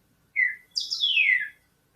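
A bird chirps: one short high note, then a longer descending trill, clear and alone against silence.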